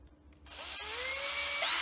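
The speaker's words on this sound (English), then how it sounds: "There's the drill." A power drill bores into a loaded bodied waggler fishing float, its whine spinning up and rising in pitch as it bites, close and loud, with no talk.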